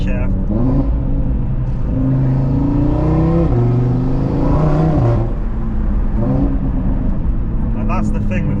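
An Audi TT RS five-cylinder engine, tuned to about 540 bhp, revs close up and drops in pitch through a downshift, with the low throb of the motor dominating.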